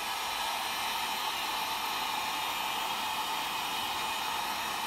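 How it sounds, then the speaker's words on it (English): A heat gun blows hot air in a steady, even hiss that holds unchanged throughout, faint and without talk. "I got my heat gun over here."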